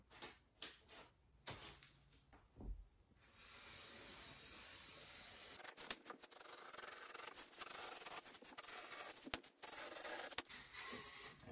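Blade trimming a lightweight foam board panel for a popup camper wall, with a few sharp scrapes and rubs at first, then steady close, loud rasping and hissing cuts broken by brief knocks.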